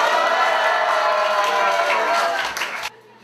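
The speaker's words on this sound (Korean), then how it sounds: "김창한 후보를 힘찬 박수로 소개하겠습니다" Crowd applause at a political gathering introducing a candidate, dense and loud clapping with cheering mixed in, cutting off abruptly near the end.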